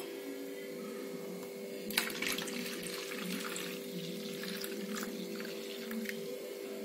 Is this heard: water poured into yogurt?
yes